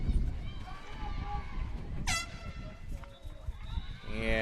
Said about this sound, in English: And an air horn